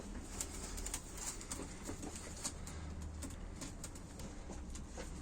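Faint cooing from pigeons in a loft, with occasional light taps and rustles over a steady low background; quiet and close, with no voices.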